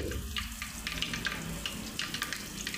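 Curry leaves and asafoetida hit hot oil in a pan and crackle with a soft continuous sizzle, dotted with small sharp pops, fairly quiet and close.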